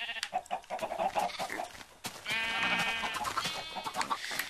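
Several sheep bleat in quick succession in Minecraft, with a longer, wavering bleat standing out midway, fairly close and clear against a quiet background.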